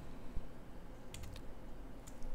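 A few quiet clicks of key presses on a computer keyboard, spaced apart and heard close over a faint background hum.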